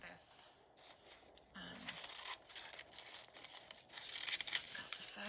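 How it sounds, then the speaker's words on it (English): Scissors snip through paper in a crafting session, a few close crisp cuts and rustling crinkles, quiet and intermittent, with faint soft handling noises between. "I'm just going to cut it with my scissors this time"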